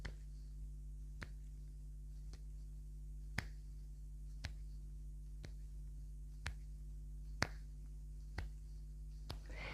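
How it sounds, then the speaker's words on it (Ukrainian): A single person's hand claps during a brain gymnastics exercise, sharp isolated claps about once a second over a steady low hum, fairly faint and with no talk. "Плескаємо в долоні, змінюємо позиції рук на протилежні"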